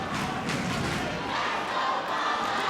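A crowd at a 2019 high school boys basketball game cheers and yells loudly and continuously, a dense roar of many voices filling the gym.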